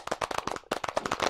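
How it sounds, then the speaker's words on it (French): Virtual applause sound effect in an online conference plays as a burst of dense, crackling claps, fairly faint, with a brief dip midway before the clapping resumes. "tout le monde applaudit."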